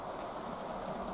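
Kit-built and modified model railway locomotive hauling carriages, a steady faint running rumble with soft rail noise, continuous and alone without any talk.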